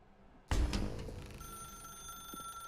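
Telephone ringing in the video game The Stanley Parable: Ultra Deluxe, an abrupt loud bell ring that rings on with a sustained tone, with no talk over it.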